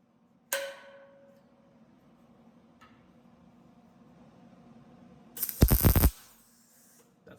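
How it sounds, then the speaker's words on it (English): A sharp metallic pop rings out early as a spot weld pops off a metal panel during metal finishing, then after a quiet stretch a loud burst of cracking and banging near the end. "Sound you heard was the spot weld popping off."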